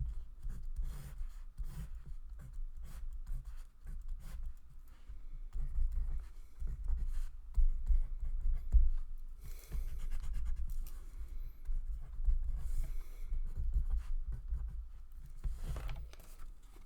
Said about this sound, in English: write this down